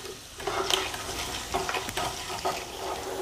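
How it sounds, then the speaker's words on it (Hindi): Garlic frying over medium heat in a pan for Nagpur-style poha chivda, a steady close sizzle broken by scraping and stirring sounds, with no voices. "लहसुन का बहुत अच्छे से फ्राई कर लेना है, मध्यम आंच पे ही हमें फ्राई करना है।"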